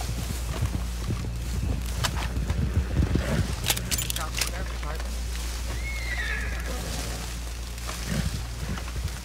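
A horse in the video game Red Dead Redemption 2 whinnies briefly in a Western roleplay scene, among hoof clops, jingling tack and shuffling steps, while players talk over the action.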